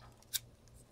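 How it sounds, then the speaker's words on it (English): Scissors make one quick, crisp snip through a laptop's wireless antenna wire, close and faint over a low steady hum. "I'm just going to use scissors because I don't have my wire cutters here."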